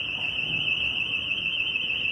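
An alarm sounds in a busy market-town street in Mold, North Wales: a loud, steady, high electronic tone that holds without a break over faint street noise.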